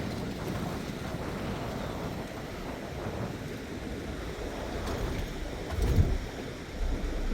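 Dense, steady rush of water pours continuously through an irrigation canal, broad and roaring like a strong outdoor flow, with some wind buffeting the microphone.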